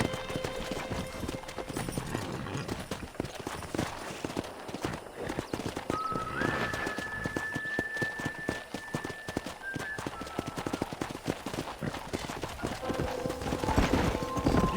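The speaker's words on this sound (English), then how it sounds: "Let's see if we can't wrangle some horses." Horses gallop with rapid, steady clip-clop hoofbeats throughout in the Western video game Red Dead Redemption, close and continuous, with a brief whinny and faint ambient tones in the background.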